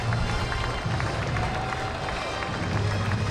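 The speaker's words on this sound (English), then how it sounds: "It's a nice round of applause by these Driller fans who appreciate a nice effort by the pitcher, Justin Robleski" Driller baseball fans in the stands give a round of applause as the pitcher, Justin Robleski, leaves the game, a steady wash of crowd noise and clapping that carries on throughout.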